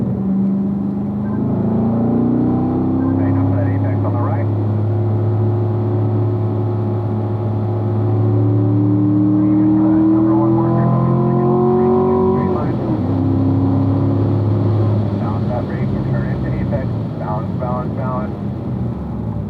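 A car making a run on a racing school track, its engine droning and rising and falling in pitch through gear changes and braking, close and steady throughout while an instructor talks over it.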